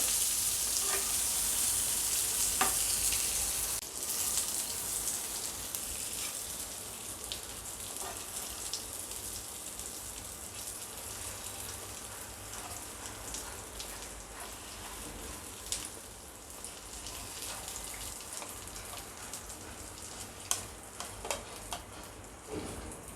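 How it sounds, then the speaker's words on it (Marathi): Eggplants roast in a pan with a continuous soft crackling sizzle, broad and even, with a few faint clicks and taps scattered through, heard alone without talking. "साधारण सहा सात मिनटं झाले आहे याला भाजत आहे"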